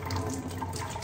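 Water drains off freshly washed rice in a kitchen, a steady close splashing and trickling flow heard on its own.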